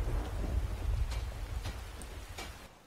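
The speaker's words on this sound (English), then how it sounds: "it is raining rather heavily right now" Heavy rain in the Skyrim video game, a steady low rumbling wash of downpour with a few faint sharper drops and splashes, fading slightly toward the end, no voices.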